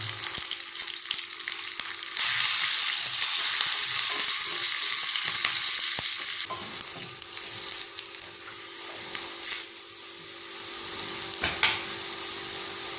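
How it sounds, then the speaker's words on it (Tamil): Shallots and curry leaves fry in coconut oil with mustard seeds and fenugreek for a dry fish curry, giving a steady, loud, close sizzle that swells briefly with a few faint spatters and no talking. "சின்ன வெங்காயத்தை போட்டு கறிவேப்பிலை போட்டு"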